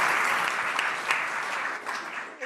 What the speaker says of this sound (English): Well, Charlie and Bob, as you can hear from the applause, everyone's very grateful for your time